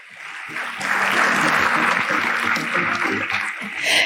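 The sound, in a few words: audience applauding at a ceremony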